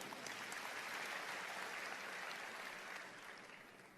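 A church congregation at a sermon breaks into lively applause, a broad, even wash of many hands clapping that holds steady and fades slightly toward the end, fairly faint and with no voices over it.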